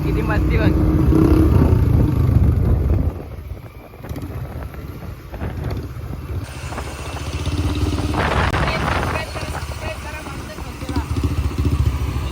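A Bullet motorcycle rides along with a steady low engine rumble and wind buffeting the microphone. The engine note eases briefly midway and then picks up again, and voices are faintly heard over it.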